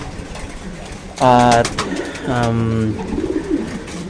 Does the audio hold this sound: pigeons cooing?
yes